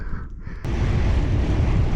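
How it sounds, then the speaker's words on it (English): Heavy wind buffets the microphone while riding a Lectric XP 3 e-bike into a headwind, a loud continuous low rumble, suddenly intensifying partway through and staying strong to the end. "Ooh, it's windy."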